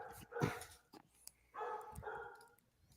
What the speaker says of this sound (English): Somebody's dog agrees.